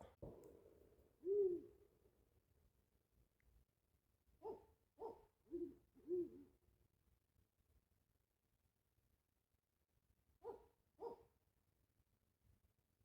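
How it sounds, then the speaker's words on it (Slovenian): Owl hooting at night in the wild, in a series of soft, low hoots spaced out and repeated alone with near-silent background. "Ravno kar je bila tle gor nek sova."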